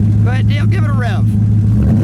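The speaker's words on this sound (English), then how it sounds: "Go ahead, Dale, give it a rev." A supercharged LS7 V8 in a 1934 Ford Roadster rises through a couple of quick revs over its steady rumbling idle, the bursts short and close.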